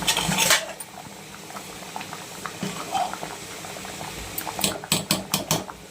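Cauliflower curry simmers in a cooking pot with soft, steady bubbling up close, punctuated by clinks of a utensil against the pot and a few quick metallic taps near the end.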